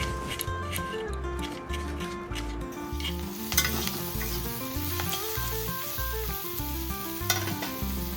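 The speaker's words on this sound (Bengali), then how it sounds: "এদিকে আমি পেঁয়াজগুলো ভাজতে বসাই দিয়েছি আর একটু লবণ হলুদও দিয়ে দিয়েছি" Onions frying in a pan with salt and turmeric, a bright continuous sizzle with rhythmic stirring scrapes, close up, with a steady low hum running underneath throughout.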